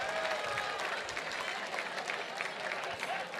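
Sustained applause from a large crowd at an annual outdoor-club fundraising gala with an auction, dense and steady throughout without a break.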